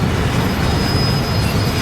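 Inside a train in Train Sim World, a continuous rumbling ride with low wheel-on-rail roar and a faint steady high whine, loud and unbroken.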